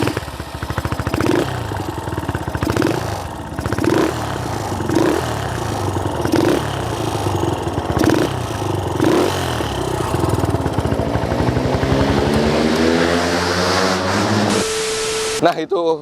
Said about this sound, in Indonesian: itu suara dari Yamaha Scorpio ini udah kalian bisa dengar